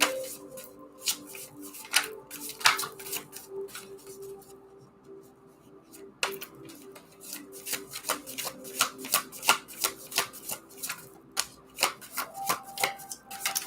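Oracle cards shuffled by hand at a reiki reading, a run of crisp riffling slaps and soft sliding rubs, close and fairly quiet, with a brief pause before the quick, irregular flicks resume.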